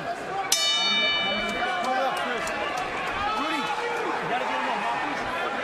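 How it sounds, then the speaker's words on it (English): A bright boxing ring bell clangs once, loud and near, starting a round at a professional heavyweight fight, over a steady roar of crowd noise and commentary. "Bell sounds to begin round number 2."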